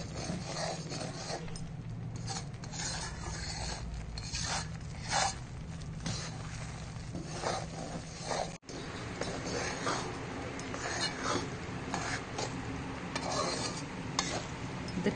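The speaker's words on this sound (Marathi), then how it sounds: "आता हा रवा आणि बेसन तुपात छान भाजून घ्यायचंय आपल्याला, मस्त कलर येईस्तोवर" Semolina and gram flour roast in ghee in a pan over medium-high heat, giving a continuous scraping, stirring rustle with a soft sizzle, close and steady, with no talking.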